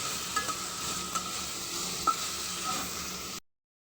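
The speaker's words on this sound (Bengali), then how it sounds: "এই যে ফুলকপি আর আলুগুলো দিয়ে দিলাম এখন এটা একটু ভালো করে মশলার সাথে কষিয়ে নিব" Cauliflower florets and potato pieces fry in hot oil with spices, a steady sizzle under repeated stirring and a few sharp scrapes of a utensil against the pan, close and moderately loud, with no voices, ending abruptly.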